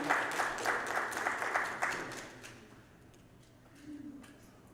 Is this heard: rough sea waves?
no